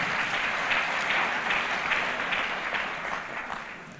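An audience at a gathering of Kenyan political leaders praising a pastor breaks into sustained clapping, loud and even at first, then gradually thinning toward the end.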